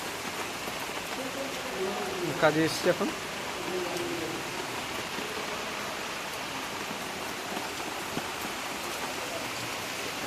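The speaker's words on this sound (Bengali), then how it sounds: "খুব জোরে বৃষ্টি হচ্ছে।" Heavy rain pours down in a steady, dense hiss that fills the whole stretch, while a voice speaks briefly near the start.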